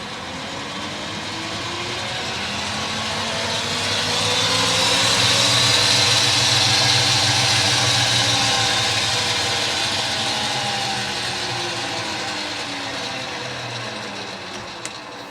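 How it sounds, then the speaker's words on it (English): A Boxford BUD lathe fitted with an inverter runs at speed, a steady whirring motor drone with a high whine that swells and eases slightly, loud and continuous with no talk. "the Boxford lathe with the inverter fitted, and now it's all running"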